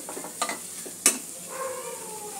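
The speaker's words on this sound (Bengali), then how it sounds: "ছানাটা মশলার সঙ্গে কষিয়ে নিয়েছি" Crumbled chhana is sautéed with spices in a pan for a chhanar chop, giving a faint, soft sizzle broken by a few sharp spoon scrapes and clicks.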